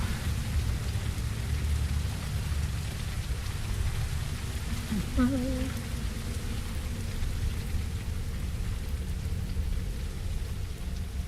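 Steady rain in the survival video game Blind Descent, set on Mars, forms a dense, continuous hiss that stays loud throughout, with one brief insect-like chirp rising faintly out of the downpour midway.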